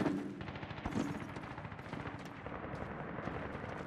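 Rapid AK rifle gunfire crackles through a Medal of Honor (2010) mission, dense bursts of shots running continuously from start to end at moderate loudness, with no voices.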